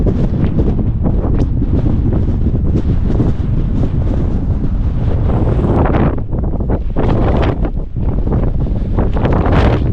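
Strong, dusty mountain wind on Aconcagua roars and buffets the microphone nonstop, loud and gusty, with brief dips before rushing back in full force.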